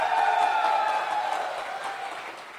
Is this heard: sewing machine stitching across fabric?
no